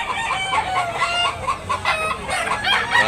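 Chickens cluck and call repeatedly at close range at a chicken market in Tabunok, Talisay, Cebu, a busy overlapping chorus of short, sharp fowl sounds.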